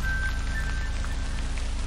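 Steady, even rain pours down through a dark forest in a horror video game, a dense continuous hiss that holds at the same level throughout with no voices.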